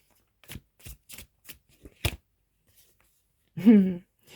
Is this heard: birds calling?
no